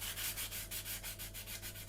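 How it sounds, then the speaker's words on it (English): A part from an Airfix Vickers Wellington Mk1 model kit is sanded with sandpaper in quick, even back-and-forth strokes, giving a soft, close, rhythmic rasp with no talking. "Let the sandpaper do the work."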